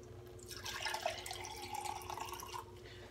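Animal Fury blue raspberry pre-workout drink pours into a container, a soft continuous liquid trickle with faint splashing droplets, quiet and close, with no voices.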